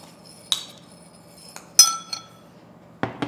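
Seasoned potatoes and carrots get mixed in a bowl, heard as a handful of sharp, ringing clinks and taps of utensil on dish, spaced irregularly over a quiet background.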